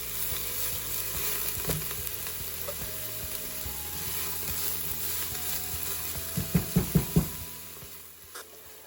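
Homegrown garden onions and green peppers fry in a pan with a continuous close sizzle, then a quick run of loud scraping stirs near the end, no talking.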